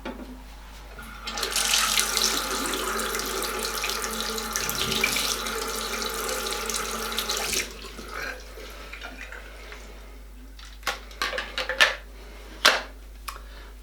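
A tap runs into a water flosser tank for about six seconds, a steady hissing stream that ends abruptly, followed by scattered clicks and handling knocks of the plastic device.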